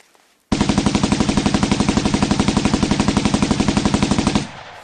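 A long, continuous burst of machine gun fire as a sound effect, rapid evenly spaced shots for about four seconds, loud and close, then a sudden stop with no voices.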